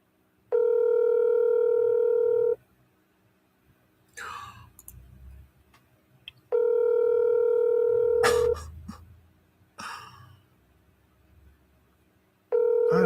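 A telephone call rings out as a loud, steady electronic ringback tone in three roughly two-second bursts, separated by pauses filled with handset clicks and faint rustling.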